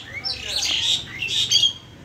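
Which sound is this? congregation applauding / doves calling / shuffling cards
doves calling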